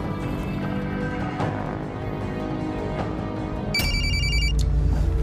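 A telephone rings with a repeating electronic trill, fairly clear over a steady background hum, the tone getting brighter toward the end.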